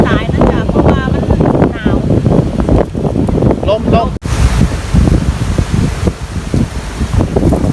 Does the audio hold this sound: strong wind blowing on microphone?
yes